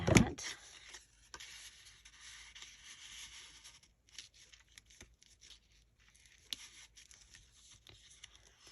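Scissors snipping through paper while assembling a pocket page for a paper craft ensemble, a soft close rustling cut that starts with a sharper handling noise and trails into quiet scraping and small rubs.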